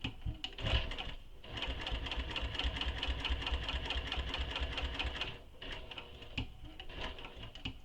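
A sewing machine stitches the lining and exterior of a quiver sling together, a fast mechanical whirring and ticking that runs steadily for several seconds, stops briefly, then resumes with a few slower stitches.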